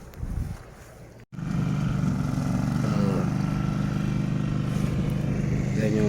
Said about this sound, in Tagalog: Yan yung pagdadamo, yung makina na yan.